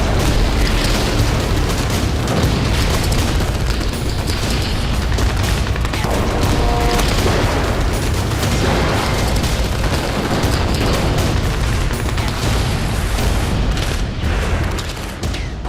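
Dense, continuous battle noise from fighting in Gaza, with booming explosions and bursts of gunfire piling up at a steady, loud level throughout and no talk over it.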